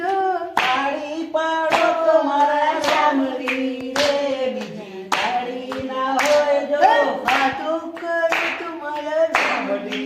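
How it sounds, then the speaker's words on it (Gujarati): A group claps hands in a steady rhythm during a devotional bhajan, sharp loud claps repeating about once a second over sung voices. "ભજન પછી ટાળી પાડો"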